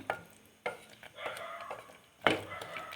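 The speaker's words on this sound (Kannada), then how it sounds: "ಈಗ ಇದು ಮಸಾಲೆಯಲ್ಲಿರುವ ಹಸಿ ಸ್ಮೆಲ್ ಹೋಗಿ ಎಣ್ಣೆ ಬಿಡೋವರೆಗೂ ಫ್ರೈ ಮಾಡ್ಕೊಳ್ಬೇಕು" A spoon scrapes and stirs masala frying in oil in a pan, with soft sizzling beneath and a few sharp louder scrapes, quiet and close, no talk over it.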